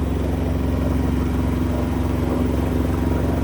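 Sailboat engine running while cruising off Galiano Island, a steady close mid-pitched drone with a rapid regular chug and faint clatter, continuous and loud with no voices over it.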